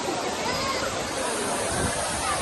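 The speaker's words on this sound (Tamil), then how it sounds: "கொட்டது பாருங்கள் அருவி மேலேருந்து அவ்வளோ அழகா" The Old Courtallam waterfall pours down in a steady, loud, rushing roar that fills the scene without a break, with faint crowd babble mixed in.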